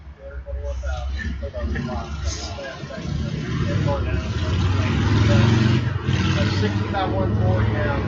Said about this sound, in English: It's like a Harley motorcycle.